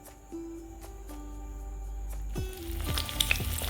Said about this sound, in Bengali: কলমি শাক ভাজা হচ্ছে।